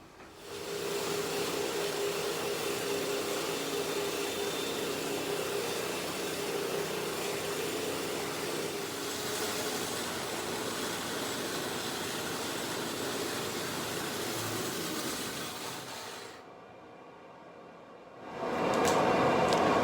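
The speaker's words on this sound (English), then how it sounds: "Already got our fresh cedar log on the mill." A sawmill with a freshly sharpened blade cuts through a fresh cedar log, giving a steady, loud, droning whir that drops away briefly near the end before rising again.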